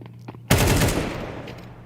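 A sudden loud burst of automatic gunfire rings out in a Counter-Strike match, a rapid string of shots that then decays, heard alone with no talk.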